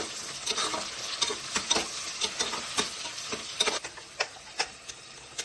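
Onions frying with coriander leaves in a pan for Mandya-style chicken biryani, a soft continuous sizzle punctuated by regular clicking and scraping strokes of a spoon stirring, close up and with no talk.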